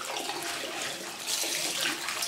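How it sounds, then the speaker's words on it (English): Tap water runs in a steady, close rush over a silicone brush cleaning mat with tiny rubber fingers, continuous splashing with no speech. "And then run some water on it"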